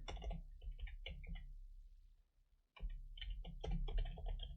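Keys on a computer keyboard click in quick, irregular bursts at close range, with a brief pause before a new run of typing.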